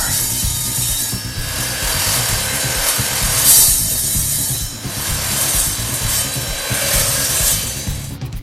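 An Evolution RAGE 3 saw cuts through half-inch steel rebar with a loud, continuous grinding rasp, steady and close throughout the cut with slight fluctuations in intensity.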